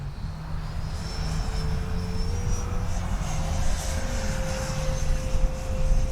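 A Freewing 70mm Yak 130 RC jet makes an inverted pass, its electric ducted fan giving a steady loud whine with a slowly shifting pitch and a continuous airy roar throughout.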